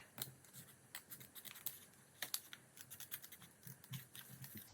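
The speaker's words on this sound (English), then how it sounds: "I prefer this method using my scissors" Scissors snip through printed 200 GSM cardstock at a craft table, a run of close, crisp cuts in an uneven rhythm with short pauses between bursts.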